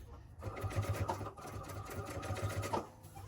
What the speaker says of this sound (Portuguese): E eu faço uma costurinha, um pesponto de cada lado, para rebater essa costura ficar assentada